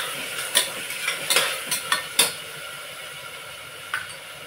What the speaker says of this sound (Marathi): एक 2 मिनिटं व्यवस्थित परतून घ्यायचं आपल्याला.